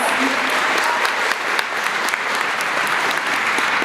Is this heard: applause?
yes